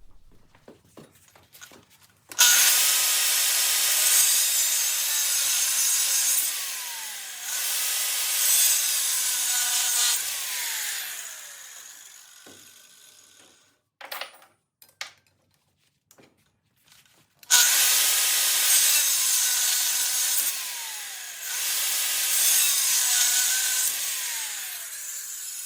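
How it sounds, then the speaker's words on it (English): A steel horseshoe clamped in a vise is cut with a saw in long, steady, rasping spells, separated by short pauses filled with a few knocks and clanks. "Let's head over to the vise where my dad will help cut them."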